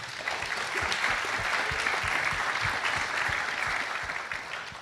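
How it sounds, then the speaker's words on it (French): A roomful of congress attendees at a WDMH 2017 round-table panel applauds a speaker's remarks, with steady, even clapping throughout that fades slightly at the end. "On va prendre on va peut-être applaudir cette intervention, s'il vous plaît."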